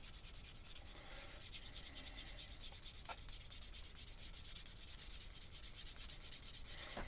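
Steady rhythmic rubbing of a burnishing tool along the leather edge of a handmade leather ferro rod holder, close and continuous with quick back-and-forth strokes, no voices.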